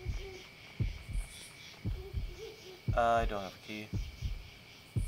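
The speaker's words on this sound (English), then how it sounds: "My heartbeat's bumping after me." Thumping heartbeat in the horror video game Yomawari: Night Alone, low repeated double pulses in a steady rhythm under a player's voice and a brief tonal game sound.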